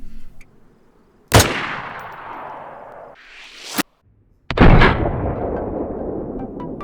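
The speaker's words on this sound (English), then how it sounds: "The sound of the M16 is different to the M4, giving it some distinction here" M16 rifle fire in DayZ: two sharp, loud gunshots a few seconds apart, each with a long rolling echo tail, the first preceded by a faint lead-in and the second followed by a brief rising whoosh.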